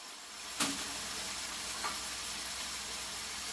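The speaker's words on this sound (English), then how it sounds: "I'm gonna watch this bacon because I don't want this bacon to burn" Bacon strips frying in a pan give a steady close sizzle and hiss, broken by a sharp clink early on and a smaller tap later as the pan is tended.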